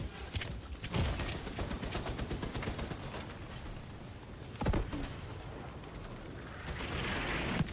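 Mortar and gunfire in The Division 2 boom in a few sharp, heavy blasts over scattered rapid shots, moderately loud with a rumbling background between impacts.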